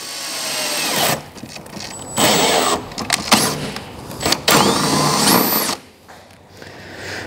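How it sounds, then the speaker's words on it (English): Bursts of a power drill boring into a fiberglass sprintcar dash in short pulses, starting and stopping several times with brief pauses between runs, close up. "I'm just going to drill my 10 and a half drill bit"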